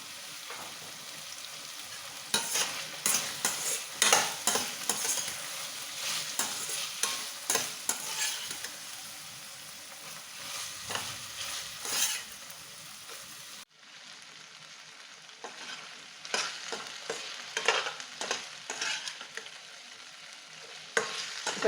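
Sautéed vegetables with turmeric powder for poha are stirred in a hot pan, with repeated scraping strokes over a soft sizzle, a brief lull midway, then more stirring, close up and with no talking.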